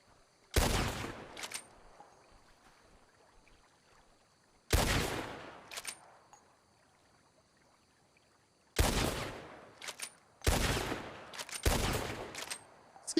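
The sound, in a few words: gunshots fired blindly into the air, WildRP video game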